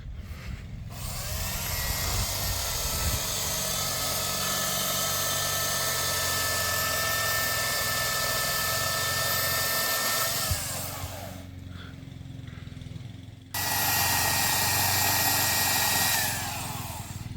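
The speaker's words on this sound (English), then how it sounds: "Now the new chainsaw works very well." A new chainsaw roars close by, revving steadily through a long cut into logs, then idles down for a moment before revving up again to cut once more.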